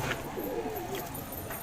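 Pigeons cooing at close range, soft low rolling coos under faint background noise.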